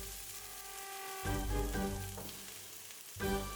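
Chopped garlic and onion hit hot oil over medium heat, a soft sizzle that swells in two sudden bursts as pieces drop in, then settles back to a quiet hiss.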